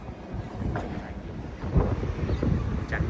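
Strong gusty wind buffets the microphone outdoors in Wellington, New Zealand, a continuous low roaring rumble that swells louder partway through, with no voices.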